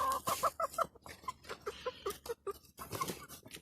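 Grown young chickens and roosters cluck close by in quick, uneven bursts, several birds overlapping with short pauses, alongside light scratching and pattering.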